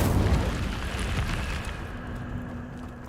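An Incendio fire spell blast in Hogwarts Legacy erupts as a loud, broad whooshing boom, then rumbles and fades over a few seconds.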